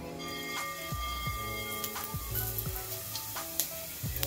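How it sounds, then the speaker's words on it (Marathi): Cumin seeds hit hot oil for a tempering and crackle into a steady sizzle, with soft ticking pops and faint utensil clinks close by. "थोडंसं तेल चांगलं गरम झालं का त्यात घालायची जिरी"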